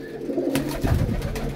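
Pigeons cooing at a breeder's loft in Faisalabad, a few low, close coos over a faint background.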